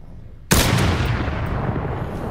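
A sudden loud gunshot blast in a zombie shooter game opens into a sustained roar of rapid fire and rumbling, close and dense, with no voice over it.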